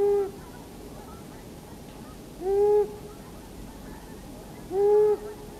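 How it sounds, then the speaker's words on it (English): A long-eared owl gives its adult territorial hoot, three evenly spaced single low notes about two and a half seconds apart, each short and clear against quiet background hiss, with no other calls. "the adults, when they're establishing territory and bonds, this is it, and it's long-eared owl"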